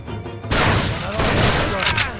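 Gunfire in the shooter game Far Cry 2, a loud, dense burst of rapid shots and booming impacts that starts abruptly and keeps going, close up and with no clear talk over it.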